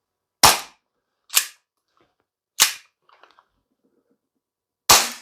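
A G&G Piranha SL gas blowback airsoft pistol fires four sharp, loud shots at uneven intervals, with faint mechanical clicks between the third and fourth.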